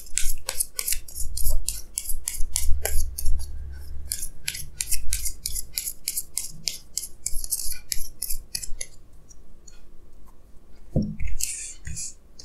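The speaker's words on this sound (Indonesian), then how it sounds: "sini saya akan tarik lagi 2 kartu tambahan" Tarot cards drawn and handled during a reading, giving a close run of crisp papery slides, snaps and clicks that come quickly at first, thin out toward the end, and finish with a few soft taps on the table.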